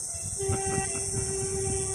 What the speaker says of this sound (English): it's a metro